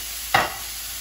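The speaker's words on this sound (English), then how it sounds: "frying pan has been heating up on medium heat. I'm gonna put the chorizo on here" Chorizo dropping into a frying pan preheated on medium heat with no added oil, giving one short burst of sizzle that quickly fades under a steady hiss.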